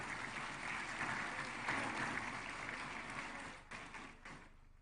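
Applause for legislators from an assembly hall audience, a broad wash of clapping that is fairly quiet and distant, tapering off toward the end.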